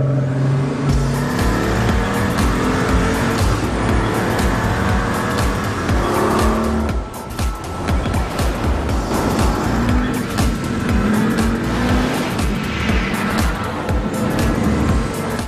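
A Pagani supercar runs fast on a race track with a loud, continuous engine howl that rises and falls through gear changes, with a brief dip mid-way and bursts of tire noise, heard close and dominant.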